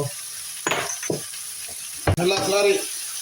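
Onions sizzle and hiss as they are stirred in a hot pan, with short bursts of frying and scraping and a clink of a utensil, close and fairly loud.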